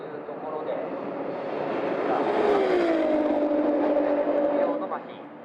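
A tuned Nissan 35GT-R making 1050 hp on a top-speed run at Fuji gives a loud, sustained engine roar whose pitch climbs steadily, with a voice talking over it.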